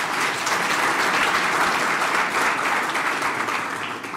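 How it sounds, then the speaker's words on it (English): Sustained audience applause at the launch of the Gauteng Human Resource Development Council, a dense, steady wash of many hands clapping that stays loud throughout and tapers slightly at the very end. "Can I request a round of applause for him?"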